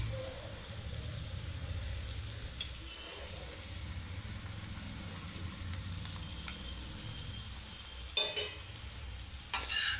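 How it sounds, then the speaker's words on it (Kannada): Masala being stirred and mixed slowly in a pan on the stove, a steady soft frying hiss with faint scraping throughout and a couple of sharper clinks near the end. "ಇದನ್ನು ನೀಟಾಗಿ ನಿಧಾನಕ್ಕೆ ಈ ಥರ ಮಿಕ್ಸ್ ಮಾಡ್ಕೊಳ್ಳೋಣ."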